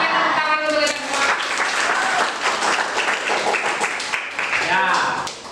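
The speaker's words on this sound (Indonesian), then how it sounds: "tepuk tangan untuk kita semua" A classroom of students applauds, a dense, loud burst of clapping close by that carries on steadily, with children's voices calling out over it.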